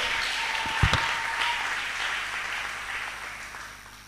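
A church congregation applauds, a sustained wash of clapping with a sharp burst near the start that slowly fades out.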